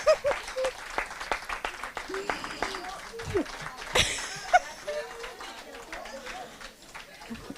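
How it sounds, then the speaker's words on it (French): An audience at a visibility summit in Paris applauds speaker Amélie with steady clapping, mixed with scattered chuckles and voices nearby. "un tonnerre d'applaudissements pour Amélie"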